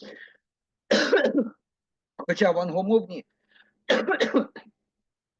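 A man with a cold gives a few harsh coughs that alternate with his speech, each cough short and separated by silence.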